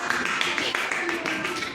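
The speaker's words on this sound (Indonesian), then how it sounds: "Tepuk tangan untuk Afi." A classroom claps for a student, with quick, steady rhythmic applause heard together with a speaking voice.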